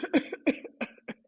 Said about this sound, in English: Exhale, cough it out.